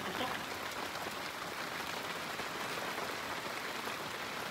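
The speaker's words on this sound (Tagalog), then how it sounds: "Pero since it's raining right now, walang benta." Steady rain falls in Sagada, a soft continuous hiss of drops on surfaces, fairly quiet and unbroken, with no clear talking.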